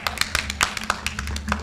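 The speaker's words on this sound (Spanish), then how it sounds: "Eso fue un aplauso minoritario." Scattered hand claps from a small audience at a book fair talk in Lima, a thin, uneven patter of individual claps that never builds into full applause.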